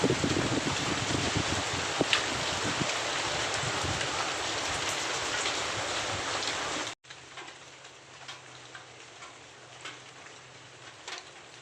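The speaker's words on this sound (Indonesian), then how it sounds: "Ini sekarang itu lagi hujan." Steady rain falls in a remote village surrounded by gardens, a dense hiss of drops on surfaces that cuts off abruptly partway through to a much quieter patter.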